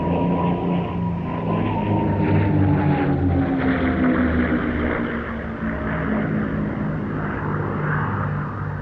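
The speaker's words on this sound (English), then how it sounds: "was the good old Rolls-Royce Merlin, albeit built by the American Packard Company" A P-51 Mustang powered by a Packard-built Rolls-Royce Merlin engine flies past at the Duxford Battle of Britain airshow, its engine a loud, sustained drone whose pitch gradually sinks as it passes, alone without talk.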